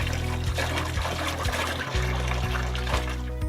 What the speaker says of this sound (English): We're going to take this bucket here, fill it with water